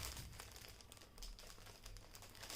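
A thin polythene bag wrapped around a silk saree crinkles and rustles continuously as it is handled, soft and close with small irregular crackles.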